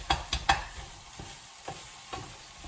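A turkey mince stir fry gets stirred in a hot pan: three quick scraping strokes up front, then softer occasional stirs over a faint steady sizzle, with no talking.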